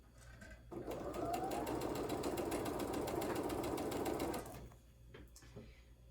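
A sewing machine stitches rows through fabric in one steady, fast run of about three and a half seconds, close and loud, then stops into near quiet.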